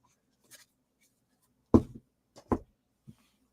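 A deck of tarot cards being cut, giving two distinct crisp slaps of cards close by, with a few faint shuffling ticks around them in an otherwise quiet room.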